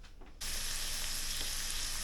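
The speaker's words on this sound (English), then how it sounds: "Onion frying up at the pan," Onions sizzle and fry in a hot pan beside moose burgers, a steady broadband crackle that starts abruptly after a quiet moment and holds loud and even to the end, with no talking.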